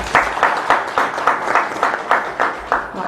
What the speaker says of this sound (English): Could you please give him another round of applause?